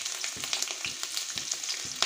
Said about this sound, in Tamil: சூடானோடனே இஞ்சி பூண்டு போட்டுக்கலாங்க